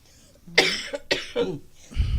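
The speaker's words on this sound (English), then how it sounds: "excuse me while I cough" A person coughs at a school board discussion: a few sharp, close coughs in quick succession, followed by a brief throat-clearing rumble.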